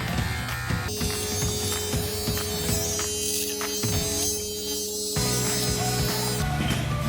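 Electric beard trimmer with a 9 millimeter guard running over a beard, a loud steady close buzz whose tone shifts and rasps as it cuts through hair.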